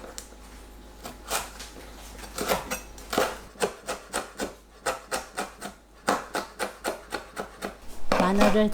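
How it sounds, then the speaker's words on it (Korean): Knife mincing garlic on a cutting board in a kitchen, a steady run of quick rhythmic chops close by, pausing briefly now and then, with a low background hum. "마늘을 다집니다"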